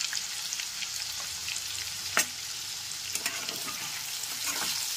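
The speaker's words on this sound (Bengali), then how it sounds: "গ্যাসের ফ্লেমটা হাইতে করে ভালো করে আলু টুকরোগুলো ভেজে নেব" Potato pieces frying in hot oil over a high gas flame, a dense continuous sizzle with occasional scraping stirs and small pops, close and steady throughout.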